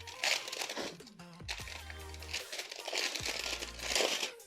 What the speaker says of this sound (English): let me open up the plastic and see what's inside